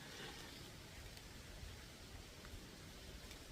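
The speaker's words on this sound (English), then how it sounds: "As you can see, it has been drizzling." Light drizzling rain makes a soft, steady, faint hiss that holds evenly throughout, with no voices.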